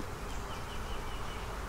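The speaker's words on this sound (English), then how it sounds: "Okay, I got a bee trying to sting my face. Yeah, there's a bee up there." Honeybees buzz around beehives in a bee barn, a dense, continuous close hum of many insects at steady loudness.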